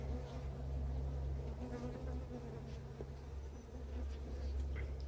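Honey bees buzzing around an open beehive during a swarm colony checkup, a continuous close, dense drone with steady low hum, heard alone without talk.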